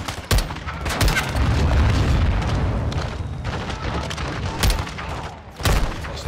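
An RPG blast and gunfire in Call of Duty: Modern Warfare II, as a close, loud boom followed by dense rattling rifle and machine-gun fire, with sharp bursts near the end.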